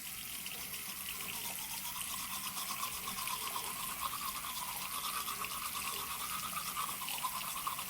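Steady, close toothbrush scrubbing after gum surgery, with braces fitted, runs without pause under running tap water for the whole stretch, with no talk.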